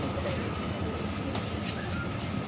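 Steady rumble and hum inside a moving pink line metro train carriage, with a constant low drone and faint rattling, no voices.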